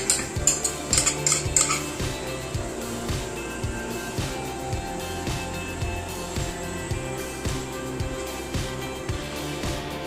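A metal spoon scooping fried onions out of a pan for cooker chicken biriyani, repeated clinks and scrapes against the pan at a steady pace, close and moderately loud.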